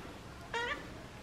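A single short cat meow, faint and a little distant, rising briefly out of a quiet indoor background with no one speaking.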